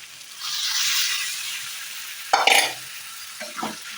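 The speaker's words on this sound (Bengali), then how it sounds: "এবারে এর সাথে সেদ্ধ করে রাখা মটরগুলো অ্যাড করে দিতে হবে" Boiled peas go into frying spiced goat fat for ghugni with a soft sizzle, followed by two short bursts of scraping and stirring in the pan, close up and without talk.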